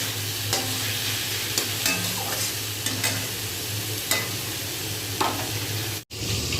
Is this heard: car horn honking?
no